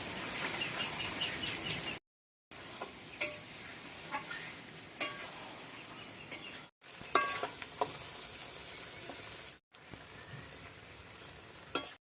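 Mutton pieces are stir-fried and browned in a pan for Bengali mutton kosha: loud, continuous sizzling with scraping stirs, broken by a few abrupt silent cuts.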